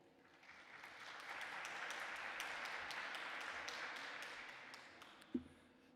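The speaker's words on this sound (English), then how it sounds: "A warm applause for you" Warm applause from a conference audience welcoming a guest, rising from quiet into a broad, sustained patter of clapping that fades near the end, heard faintly and at a distance, with one sharp knock just before it dies away.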